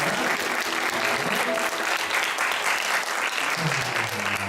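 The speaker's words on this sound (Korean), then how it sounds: "새로 오신 분들을 박수 격하게 박수 주시기 바랍니다" A church congregation at a Sunday worship service applauds newcomers, giving sustained, dense clapping from a crowd that stays loud and even throughout, with faint voices underneath.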